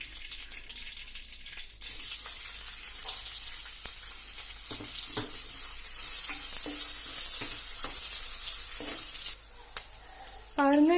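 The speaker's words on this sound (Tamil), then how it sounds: "ஃபர்ஸ்ட் பிரண்டையை நல்லா வதக்கிடுவோம்" Pirandai (adamant creeper) sautéing in oil in a pan makes a close, hissing sizzle that swells and settles, with scattered stirring clinks and a brief watery splash near the end.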